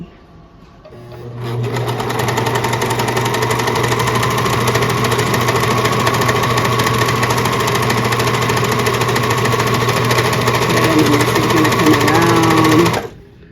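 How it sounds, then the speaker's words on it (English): A serger sewing machine runs steadily while it serges along a fabric edge, a continuous close mechanical whir with a low hum that keeps going for about twelve seconds before stopping. "we're going to serge this edge and look at them both"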